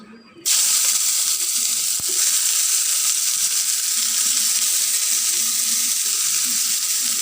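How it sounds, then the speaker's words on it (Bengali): Bitter gourd pieces dropped into hot mustard oil: a quiet moment, then a sudden loud, continuous hissing sizzle that holds steady and close for several seconds. "তেলটা গরম হয়ে গেলে এখানে আমি প্রথমে করলাগুলো দিয়ে দিচ্ছি"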